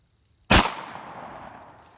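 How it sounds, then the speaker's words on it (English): A single loud shotgun blast from a Rock Island Armory single-shot firing a Remington Premier Nitro Sporting Clays shell, sharp report followed by a short decaying echo, alone in quiet surroundings. "this is the first shot with this gun"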